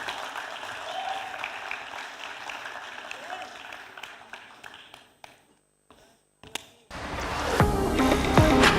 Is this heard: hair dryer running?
no